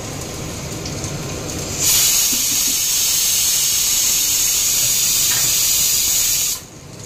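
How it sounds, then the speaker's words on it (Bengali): Fish sizzling in hot oil: a sudden loud, steady hiss bursts in about two seconds in, holds evenly for several seconds, then cuts off sharply near the end. "তো চলো তেলটা গরম হয়ে গেছে, ভাজতে শুরু করো।"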